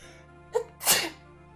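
A single person sneezes nearby, a short sharp intake followed by one loud burst against a quiet background.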